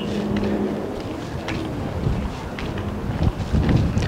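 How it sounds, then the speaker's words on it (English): Strong wind buffets a high mountain lookout on Oahu, a steady loud rushing roar across the microphone with gusty swells and rumbling low buffeting. "because we're high up, there is a lot of wind"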